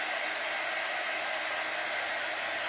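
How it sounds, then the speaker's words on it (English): A handheld quick dry craft tool blows air to dry Dixie Belle Voodoo stain on a 5x7 craft piece, a steady, loud, even whoosh of rushing air that holds without a break from start to finish. "I'm using the quick dry tool because it says it needs to be completely dry"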